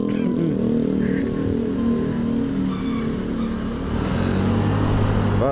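A vehicle engine revs and accelerates, picking up speed on a road, with a loud, continuous motor roar and shifting pitch heard close by throughout.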